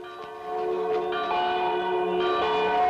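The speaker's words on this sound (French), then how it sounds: "Qui est-ce qui sonne les cloches?" Church bells ring with sustained, overlapping tolls, growing slightly louder as further strikes layer in, heard alone without talk.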